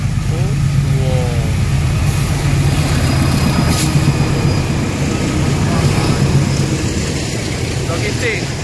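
A long coal freight train rumbles past close by, a loud continuous low roar with clattering wagons, while a child and an adult chatter excitedly over it.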